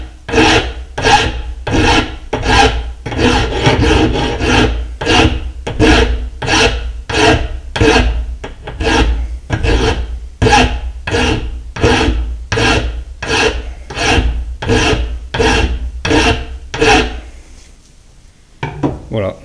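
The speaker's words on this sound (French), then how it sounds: "Et avec la lime on vient tout simplement casser l'angle." A coarse bastard file rasping across a metal edge to break the corner on a lathe tool holder, loud and close with steady rhythmic back-and-forth strokes, about two per second, stopping near the end.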